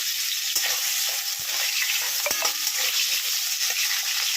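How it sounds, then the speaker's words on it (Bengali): Diced potatoes fry in hot oil in a pan for a soybean and potato curry, a dense, bright sizzle heard up close throughout, with occasional soft clicks and knocks of stirring. "দুখানা আলুকে এরকম ডুমো ডুমো করে কেটে নিয়েছি, কেটে আমি তেলেতে ভেজে নিচ্ছি।"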